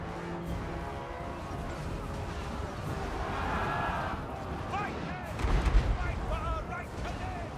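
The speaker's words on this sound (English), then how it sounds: "That missile fire is seriously deadly." Greenskin army battle in Total War: Warhammer, dense rolling volleys of missile fire and impacts with booming blasts, a heavier burst of explosions midway, continuous and loud throughout.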